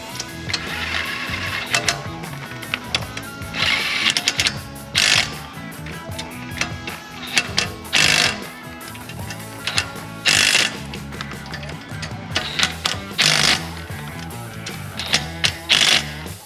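Exhaust bolts are torqued down on an L5P Duramax diesel, with repeated ratchet clicking in short runs and metallic clanks over about sixteen seconds.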